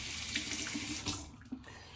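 Water from a tap runs quietly into a sink during shaving, a soft continuous splash lasting about two seconds with small bubbling variations.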